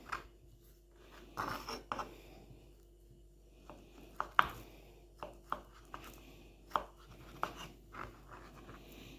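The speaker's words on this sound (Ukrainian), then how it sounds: "Ось нарізаю так, маленькими квадратиками." A knife cuts a banana into small cubes on a board, a series of soft, crisp clicks and taps at an irregular pace, close and fairly quiet with no talk.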